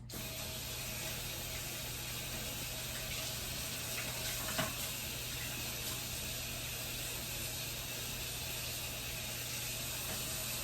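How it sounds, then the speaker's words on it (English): A kitchen tap runs over hands being washed while a chocolate chip parfait dessert is prepared, a faint, steady stream of water with a constant hiss throughout. "Wash my hands."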